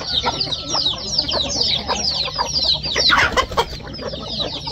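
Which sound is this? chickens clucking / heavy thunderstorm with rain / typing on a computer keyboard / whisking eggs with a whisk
chickens clucking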